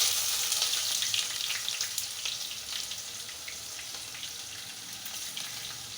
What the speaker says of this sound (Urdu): اب ہم پیاز ڈال لیں